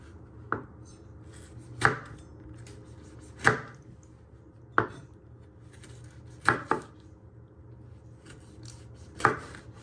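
Knife chopping tomatoes into pieces for a chorizo and tomato spaghetti, six or seven sharp, distinct board knocks spaced about a second apart over a low background hum, with no talking.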